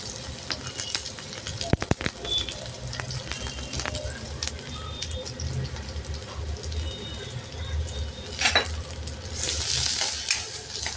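Finely chopped onion hits hot oil with garlic, ginger slices and chillies for a restaurant-style dal tadka, giving a steady low sizzle and crackle with occasional stirring clatter and a few sharp knocks, under a voice.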